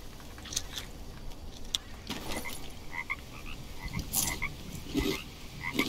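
Frogs croaking in the jungle survival game Green Hell, a scattering of short chirpy croaks over a dense, hissy rainforest ambience, moderately near and fairly quiet.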